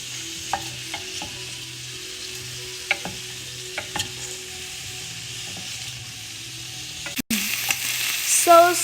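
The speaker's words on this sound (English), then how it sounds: "Roast the onions until they become transparent." Onions fry in a pan for a Malabar spinach chutney, a steady low sizzle with scattered stirring clinks and scrapes close by, and no talking.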